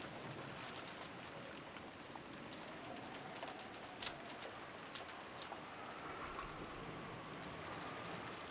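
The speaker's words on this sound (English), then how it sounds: "we get the soothing sound of rain for the break" Rain ambience during a stream break, a continuous soft wash of falling rain with scattered drips and faint bird calls, steady and fairly quiet with no talk.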